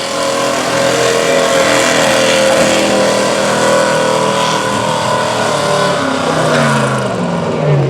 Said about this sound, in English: Miles Martin turning on that old Ford.